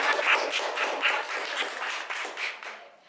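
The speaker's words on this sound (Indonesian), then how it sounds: "Mungkin banyak tepuk tangannya buat temen-temen." A small group of people in a podcast studio applauds warmly for about three seconds, a dense patter of close hand claps that thins out and fades at the end.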